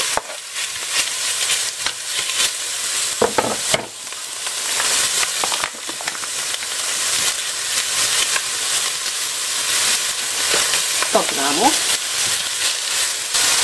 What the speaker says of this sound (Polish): I wrzucam już to mięso z bockiem.